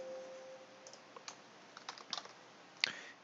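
Typing on a computer keyboard while entering cost items into energy audit software, a quiet irregular patter of key clicks with a few sharper presses near the end.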